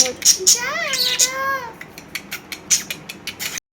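A cat meows once, a rising and falling wail near the start, followed by scattered clicks and light clatter.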